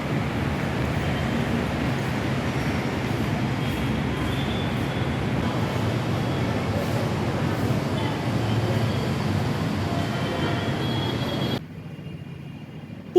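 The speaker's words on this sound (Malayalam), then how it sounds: "ഓപ്പോസിറ്റ് സൈഡിലേക്ക് ഒരു ട്രെയിൻ വന്നു" A metro train pulls in on the opposite side of the station platform with a steady, rolling rumble that continues for several seconds before cutting off abruptly near the end.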